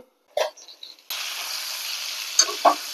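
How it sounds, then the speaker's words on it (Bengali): Potatoes frying in a pan: a short clatter and scrape, then a steady sizzle that takes over and runs to the end, broken by a couple of sharp clinks near the close. "আলুগুলোকে ভালো করে ভেজে নিতে হবে।"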